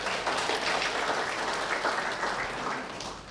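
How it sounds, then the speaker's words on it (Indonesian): Church congregation at an anniversary service applauding the people who did the decorations, a broad, continuous roar of clapping from a large room that holds steady and tapers slightly toward the end. "Beri tepuk tangan"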